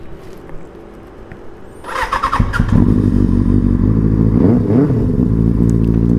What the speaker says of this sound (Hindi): बहुत दिनों के बाद साउंड सुन रहा हूँ बाइक का.